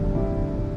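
Steady rain falls at an airport under heavy clouds, a continuous close hiss with a low rumble beneath, brief and without voices.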